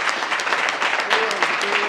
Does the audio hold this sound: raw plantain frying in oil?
no